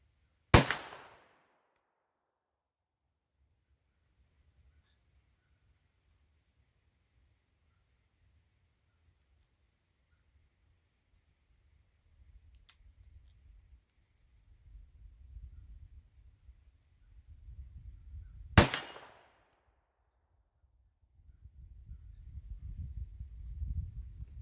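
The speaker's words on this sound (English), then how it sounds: "I had to stop shooting after 2 rounds" Two sharp revolver gunshots ring out far apart while grips are tested under recoil, each a loud crack with a short decay, separated by near silence and low background rumble.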